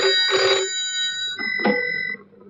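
An old-style telephone bell rings in two clear bursts separated by a pause, loud and close in a quiet room, with a faint tone lingering between them.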